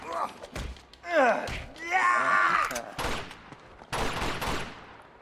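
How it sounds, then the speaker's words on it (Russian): Rapid bursts of gunfire in the video game Uncharted 2: Among Thieves, mixed with thuds and tonal game effects, loud and busy throughout, with some voice in the background. "Еще где-то стрельба слышится."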